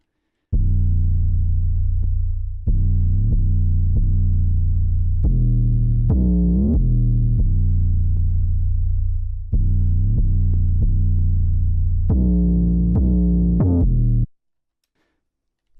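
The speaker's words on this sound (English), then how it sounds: "the 808, and it sounds like this" Deep 808 bass in a dark trap beat made in FL Studio: loud, booming sliding notes in a rhythmic pattern, playing alone for about fourteen seconds before cutting to silence.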